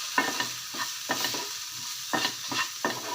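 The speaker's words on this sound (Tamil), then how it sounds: "வெண்டைக்காயில் வதக்கிறப்ப நீங்கள் கொஞ்சம் உப்பு போட்டு வதக்குங்க" Okra is stirred and sautéed in a pan, with a spatula scraping in quick, uneven strokes over a continuous close sizzle, with no talking.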